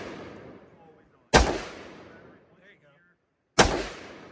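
Two loud, sharp gunshots about two seconds apart, each with a sudden crack and a decaying echo, with faint voices in the quiet stretch between them.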